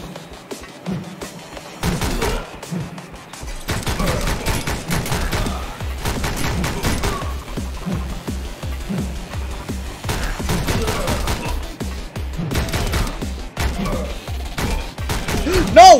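Bursts of rapid gunfire crackle in the Speed Limit demo, a bullet train shooter, coming in repeated volleys over roughly fifteen seconds with a player's voice briefly between shots.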